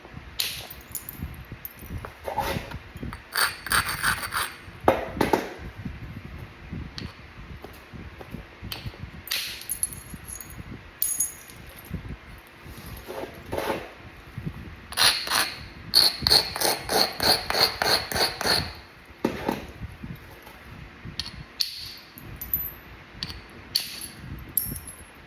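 Florida coral being flintknapped, with sharp clustered strikes and scraping flake-thinning taps in irregular bursts, some rapid runs of close hits, over a steady insect-like background hiss and no talk.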